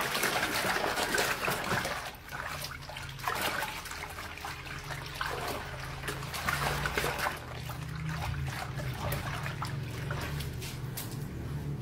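A mixture of salt, milk, egg and water is stirred for roti canai dough, giving continuous close sloshing and trickling of liquid with small splashes.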